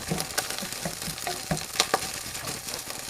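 Garlic and ginger sizzle in a hot pan, a steady close frying hiss with intermittent pops and stirring scrapes, alone without talk.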